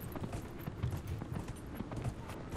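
Horse hooves clip-clop in a steady rhythmic trot in the video game Dragon Age Inquisition, quiet and close, with no voices over them.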